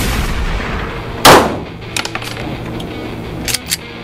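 A gun fires at a range, one sharp loud report followed by a few fainter cracks and clicks over steady background noise.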